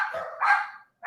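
Dogs bark in two bursts, a long, loud run of barks followed by a pause and then another bark, nearby and with no talk over them.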